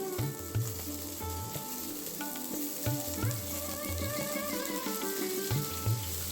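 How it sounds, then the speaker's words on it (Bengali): Sliced onions fry in oil with whole cumin, cardamom, cinnamon and cloves for a paneer kofta curry, giving a steady close sizzle with scraping stirs, over a rhythmic musical backing. "এবার ওই একই তেলে কিছুটা গোটা জিরে, এলাচ, দারচিনি, লবঙ্গ দিয়ে একটু নাড়িয়ে চাড়িয়ে কেটে রাখা পেঁয়াজগুলো দিয়ে দেব"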